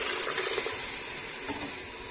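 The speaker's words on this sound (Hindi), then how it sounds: "अब इसके अंदर हम पानी ऐड कर देंगे।" Water pouring into a cooking pot of ginger-garlic paste for daal, a steady bright splashing hiss that holds evenly for a couple of seconds.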